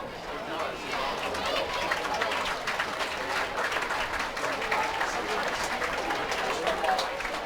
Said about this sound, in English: Nice round of applause from the Legend faithful here that filled the stands tonight.